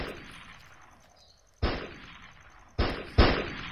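Three sharp gunshots ring out in a shooting video game, each a loud crack with a decaying tail, spaced irregularly over a quiet game background.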